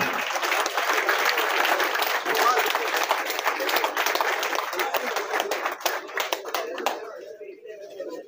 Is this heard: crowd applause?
yes